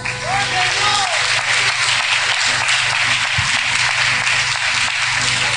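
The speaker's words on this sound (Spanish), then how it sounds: "Denle un aplauso al Señor." A church congregation claps together in sustained, steady applause, a dense wash of hand claps that stays loud and even throughout, with voices faintly mixed in.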